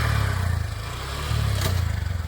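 A motorcycle engine idles and putters up close in a parking area at Napne Waterfall, Sindhudurg, a throbbing low rumble that dips briefly and then picks back up.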